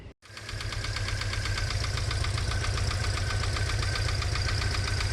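A car engine idles steadily and loudly with a constant low rumble, overlaid by a fast, even ticking from lifters that have sat unused for a while; no voices.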